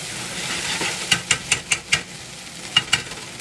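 Potatoes cooking in a pan with added juice are stirred, giving a soft simmering hiss under a quick run of five sharp scraping strokes, then a pause and two more near the end.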